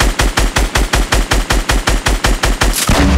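Rapid automatic gunfire in the Fortnite video game, a loud even stream of about fifteen evenly spaced shots, ending in a brief heavier blast.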